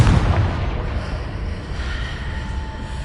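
A Confringo blasting spell goes off in Hogwarts Legacy on PlayStation 4 Pro, opening with a heavy boom that fades into a long, rumbling roar, with no voices.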